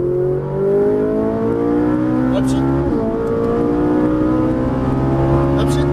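Ferrari 458 Italia accelerating on a driving course in Las Vegas, engine tones climbing steadily in pitch as revs build, loud and close inside the car, with a person speaking over it.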